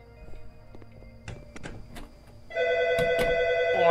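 A telephone rings in an 80s-style crime video game, a loud, sustained electronic bell tone that starts abruptly after a few soft clicks and thuds and keeps ringing to the end, with no talk over it.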